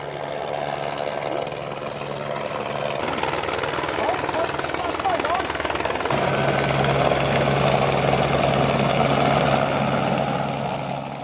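An Emergency Situations Ministry rescue helicopter drones loudly and steadily throughout, its rotor and engine noise continuous and close, with no break in the roar.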